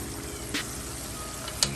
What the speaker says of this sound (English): she's frying up quite nicely